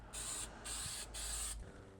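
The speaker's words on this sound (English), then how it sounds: "now I'm gonna take a little bit of this spray adhesive and spray it on the inside here." Spray adhesive hisses from an aerosol can in three steady bursts of about half a second each, close and fairly loud, with short pauses between and quiet room noise after.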